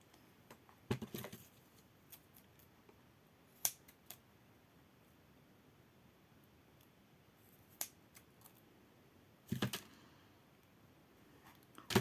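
Scissors cutting ribbon for a handmade Christmas-house mini album, heard as a few sharp, quiet snips spaced apart, close to the microphone, in an otherwise near-silent room.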